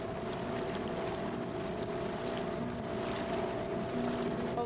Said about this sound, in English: out for a dinghy ride